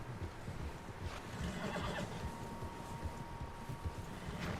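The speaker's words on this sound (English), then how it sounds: "Horses, quite a few of them." Horses in Red Dead Redemption 2 give out a whinny over a steady rumble of hooves and outdoor ambience, with several animals moving together at middle distance throughout.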